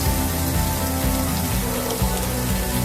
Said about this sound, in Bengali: এবার আমি চিংড়িগুলোকে একটু ফ্রাই করে নিচ্ছি।